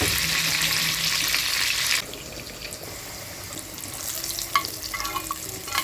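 Garlic frying in hot oil for a dal tempering, a steady loud sizzle for two seconds that drops away, then quieter sizzling with faint clinks and light stirring sounds.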